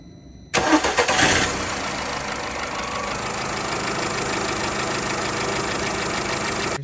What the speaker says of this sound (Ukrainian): Ми замінили свічки, тепер заводимо і перевіряємо, чи все окей